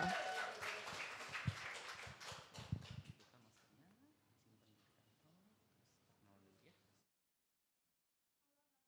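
An audience claps for a classical guitar student at a live stage event, a burst of applause fading over a few seconds into quiet room sound.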